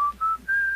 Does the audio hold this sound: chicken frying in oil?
no